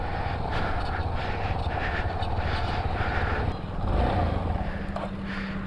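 A Yamaha XTZ motorcycle rides over slippery dirt and stones, its engine droning continuously with rising and falling revs, near and moderately loud.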